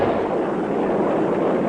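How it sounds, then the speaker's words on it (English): Retro rockets firing in a Richie Rich cartoon make a steady, loud, roaring whoosh of broadband noise that holds unbroken throughout. "I'm switching to retro rockets."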